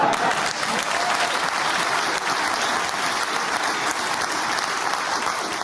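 Applause from a studio talk show audience, a dense, steady wash of clapping that holds loud and unbroken throughout before tapering slightly at the very end.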